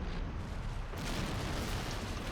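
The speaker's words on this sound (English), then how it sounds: "And that explosion, I'm pretty sure, damaged its wheel" An explosion in Men of War: Assault Squad 2, heard as a dense, noisy rumbling blast that sharpens into a brighter crackling burst partway through and holds loud to the end, with no talk.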